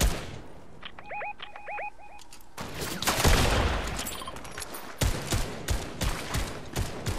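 Rapid bursts of automatic gunfire from a Fortnite match, loud and dense with repeated volleys and crackling shots, some chirping game effects early on and no speech.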